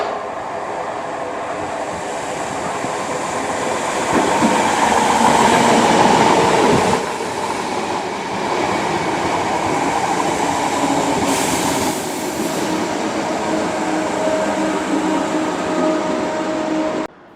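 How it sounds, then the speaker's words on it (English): A Class 313 electric multiple unit rumbles steadily past Newhaven Town Station on the Seaford branch line, a loud, close, continuous roar of wheels and motors with a brief high squeal partway through. "The only trains we will be seeing though are the Class 313 EMUs"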